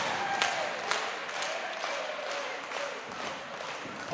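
A crowd at a bonfire-night wrestling show claps along, a faint, steady patter of applause with a few sharper claps standing out, sounding distant and thin across the whole stretch.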